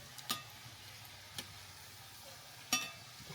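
Jawla (dried small shrimp) bhaji fritters frying in very hot oil on a flat tava, a soft continuous sizzle broken by a few sharp clicks and scrapes of a utensil, close and fairly quiet, no voices.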